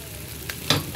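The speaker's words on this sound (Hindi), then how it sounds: "अब इसमें चावल डालेंगे" Rice tipped into a hot pan of masala, mung beans and vegetables sizzles and scrapes under a stirring spoon, close and brief, with a louder scrape near the end.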